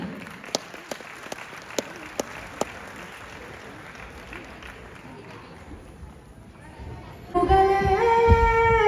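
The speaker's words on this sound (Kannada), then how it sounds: "ತಮ್ಮೆಲ್ಲರ ಒಂದು ಜೋರು ಚಪ್ಪಾಳೆ ಬರಲಿ" An audience at the Vishwa Kannada Habba in Singapore applauds to welcome a singer onto the stage, with a few sharp claps and then a sustained, somewhat distant wash of clapping and crowd noise before loud music starts.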